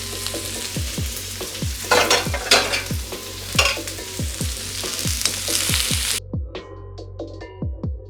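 Vegetables sizzle in a hot pan for dirty couscous, a steady frying hiss overlaid by rhythmic scraping stirs roughly every half second, close and loud, with the sizzle dropping away near the end.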